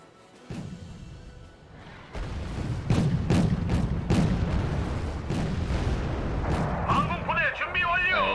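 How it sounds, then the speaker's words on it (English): A napalm strike in the war game Wargame: Red Dragon sets off a run of heavy, rumbling booms, one after another, growing louder and denser, while a person talks over the blasts. "It was napalm."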